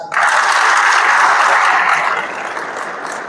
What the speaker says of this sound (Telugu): I want the claps